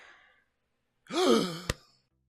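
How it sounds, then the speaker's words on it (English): A sharp, voiced intake of breath rising in pitch, loud and close, followed by a brief click, after a faint murmur. "Audible gasp."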